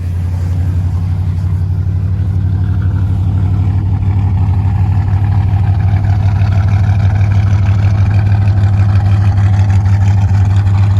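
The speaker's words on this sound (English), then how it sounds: "So, one pump to the floor, set the choke. Starts right up." A Chevrolet Impala small-block 283 V8 idles with the choke set, a loud, close, deep rumble that holds steady and unbroken throughout, with no voices.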